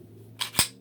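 Two sharp, loud handgun shots at a shooting range with a carry pistol, about a fifth of a second apart, over a faint low hum.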